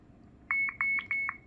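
A GHOST XL DRIFT helmet camera being switched off gives a quick series of about six short, bright electronic beeps in a stuttering rhythm, close and clear over quiet background.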